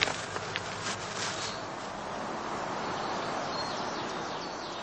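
Honey bees at a heather skep hive in a heathland apiary, a steady dense buzzing hum from many insects close by, constant throughout with faint rustling, no talk.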